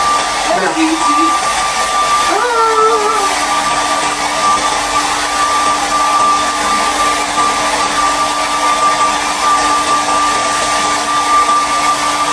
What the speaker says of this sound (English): I haven't used a hair dryer in a long time